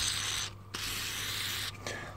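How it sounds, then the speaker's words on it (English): Spray grease hisses out of an aerosol can into a trailer plug in two short bursts, close and fairly quiet, separated by brief pauses. "I'm going to stick a bit of spray grease in there as well."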